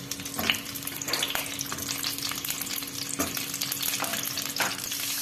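Whole pointed gourds (potol) frying in oil, a continuous bubbling sizzle with repeated spatula scrapes and knocks against the pan at an irregular rhythm, close and moderately loud.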